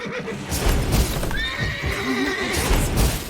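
Horses whinny repeatedly in high, wavering cries over a steady clatter of hooves, a busy, close-sounding herd with no pauses, in the video game The Witcher 3: Wild Hunt.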